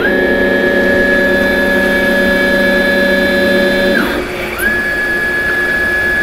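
A Centroid CNC machine running a test program: a loud, steady mechanical hum with a sustained whine, which drops briefly as the motion pauses and then rises again in pitch as it resumes.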